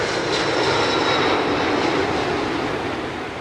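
A fully laden airliner carrying 350 passengers fills the cabin with a loud, steady engine roar in flight, a continuous broadband drone that barely wavers and fades slightly toward the end.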